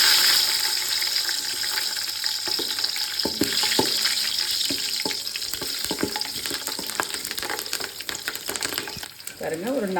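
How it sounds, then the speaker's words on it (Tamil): Seven green chillies fry in hot oil in a pot for chicken biryani, giving a continuous close sizzle with scattered crackles and pops and a brief burst of bubbling toward the end. "ஒரு 7 பச்சை மிளகா வந்து இதில் போட்டு போகிறேன்"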